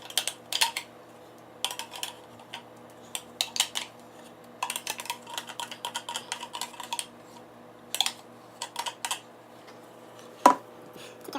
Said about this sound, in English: I actually gotta grab a spoon and do it with a spoon.